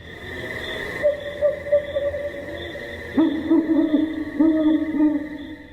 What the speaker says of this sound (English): as you can hear owls hooting and things moving heavily on the forest floor